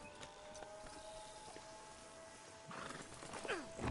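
In the Red Dead Redemption II video game, a horse's hooves clop steadily under a faint background hum, then the horse lets out a clear, falling whinny near the end.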